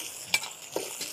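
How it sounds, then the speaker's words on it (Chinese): Celery and pig head meat are stir-fried in a wok at an outdoor market stall, with a sizzling hiss and two sharp scraping strokes of the spatula over a brief moment. "芹菜炒猪头肉，兄弟们，炒猪头肉啊"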